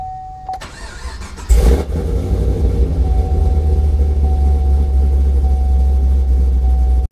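A car engine cranks briefly, then catches with a loud burst and settles into a steady, close idle that drones on alone.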